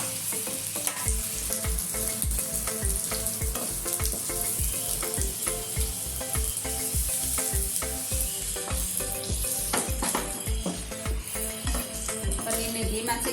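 Paneer frying in hot ghee gives a steady, close sizzle with a regular rhythmic pulse of scraping or stirring throughout, loud and alone without speech.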